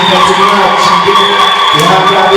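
A church congregation greets Pastor Fiston with loud, continuous cheering and whooping, a close, lively crowd roar that holds steady from start to finish.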